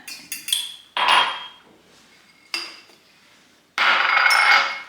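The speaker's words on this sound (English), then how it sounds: "it's just kind of fun to throw everything in the jar" Herbs, ginger, garlic and lemons are dropped into a glass jar in a series of clinks and rattles: a few quick knocks, then three louder bursts of tumbling pieces against glass, close and alone.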